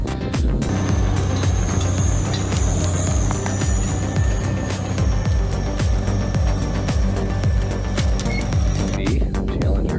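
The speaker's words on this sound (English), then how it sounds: "Its high-capacity mulching head makes quick work of trees and brush, clearing large areas efficiently." A Challenger MT965B tractor runs a high-capacity mulching head through trees and brush, giving a loud, steady engine roar with a rhythmic low thumping and grinding that holds throughout before easing off near the end.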